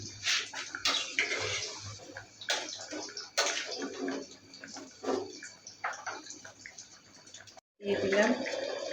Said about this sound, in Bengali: এখন আমি ঝোল দিয়ে দিচ্ছি।